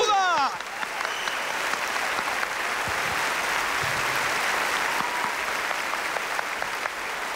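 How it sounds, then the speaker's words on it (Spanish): A crowd at a televised Olympics-themed program applauds continuously, a thick, even roar of clapping that holds steady throughout, with a brief sweeping tone at the very start. "Un aplauso para la gloria olímpica."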